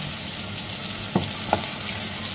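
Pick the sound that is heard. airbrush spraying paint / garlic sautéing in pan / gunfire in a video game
garlic sautéing in pan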